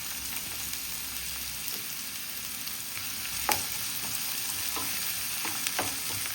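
Chopped green chili, onion and tomato fry in a pan for a sandwich filling, giving a steady close sizzle with a few light stirring clicks and no talking.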